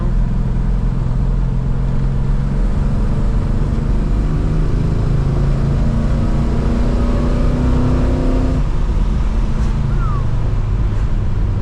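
A 1969 Dodge Charger with a 440 V8 and a 727 console-shifted automatic, cruising under load. The engine holds a loud, steady drone that rises in pitch and then drops as the transmission shifts into third, with no speech.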